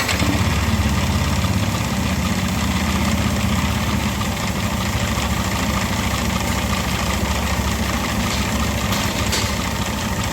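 A Yamaha NMAX scooter engine, CVT cover removed, runs at a steady, rough idle, close and constant throughout, with a dense rattling hum and no voices.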